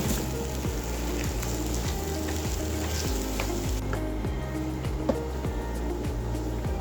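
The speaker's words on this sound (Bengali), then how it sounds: "এখন এগুলোকে নেড়ে চেড়ে ভালোভাবে মিশিয়ে নেব" Mashed potato with salt and chopped green chilli is stirred and fried in a pan, with a steady crackling sizzle under regular scrapes of the spatula, close and continuous.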